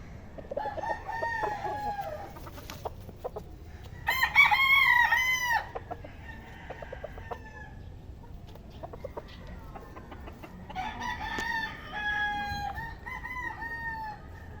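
Chickens and roosters at a chicken farm crow and cluck, several loud cock-a-doodle-doo calls rising over steady nearby clucking and faint background noise.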